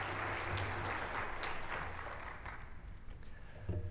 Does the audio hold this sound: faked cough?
no